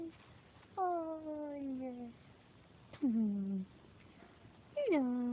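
A kitten gives three drawn-out, descending meows, each about a second long with pauses between, close and clear over a quiet room.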